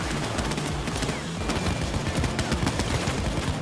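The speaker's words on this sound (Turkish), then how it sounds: "bu arada gerçekten ama gerçekten çok büyük bir silah seslerinin değişme farkı olmuş" Continuous gunfire from the Payday 2 beta video game, a dense run of rapid shots and bursts at steady loudness throughout, with no talking.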